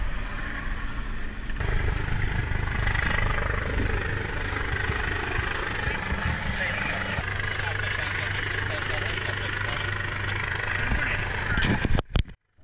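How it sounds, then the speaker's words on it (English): A low-flying Coast Guard helicopter circles a small sailboat at sea, its rotor thump and engine roar loud and steady for about twelve seconds, with voices talking over it. "we were very surprised by a low-flying Coast Guard helicopter that started circling us"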